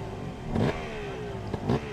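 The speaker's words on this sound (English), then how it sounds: "Two-stroke zinging." A high, buzzing two-stroke motorcycle engine at a hill climb event revs in two quick bursts over a continuous idle drone, fairly close by.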